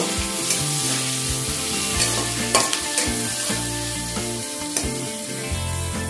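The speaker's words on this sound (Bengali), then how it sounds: "দিয়ে দিলাম এটা তেলের মধ্যে। পেঁয়াজটাকে একটু লালচে করে ভেজে নেব।" Two medium onions, sliced and dropped into hot oil, fry with a strong, continuous sizzle close by, broken by occasional clinks and scrapes of stirring, with no voices.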